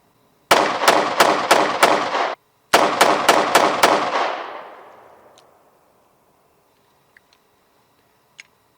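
Smith & Wesson M&P 2.0 pistol fired at a shooting range, two quick strings of five loud close shots with a short pause between, the last echo fading, followed by a few faint clicks.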